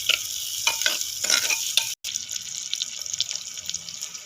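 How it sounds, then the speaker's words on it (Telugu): Onion and green chilli frying in a pan for a mushroom curry: a bright, steady sizzle close up with stirring scrapes, broken by a momentary cut. "ఉల్లిపాయ, పచ్చిమిరపకాయ వేసుకోవాలండి. అవి కొద్దిగా వేయించుకోవాలండి."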